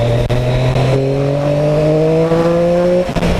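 A Triumph Street Triple RS 765 motorcycle engine pulls hard and close, its pitch climbing steadily as it accelerates to overtake a car, over a constant wash of wind noise.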